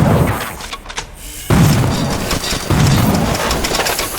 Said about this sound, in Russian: вроде подствольного гранатомета